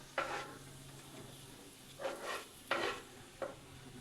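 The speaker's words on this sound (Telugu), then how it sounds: "ఇప్పుడు నేను మిర్చి ఇంకా ఆనియన్స్ యాడ్ చేస్తాను" Green chillies and onions in hot oil give short bursts of sizzling and stirring, four separate scrapes and crackles over a faint steady background, moderately quiet and close.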